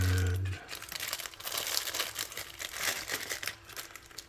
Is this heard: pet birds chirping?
no